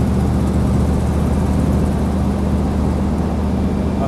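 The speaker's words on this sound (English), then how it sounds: "Just enjoy the exhaust note." A Land Rover 90 V8 soft top runs with a deep, steady exhaust rumble, loud and close, holding an even low drone for about four seconds with no talk over it.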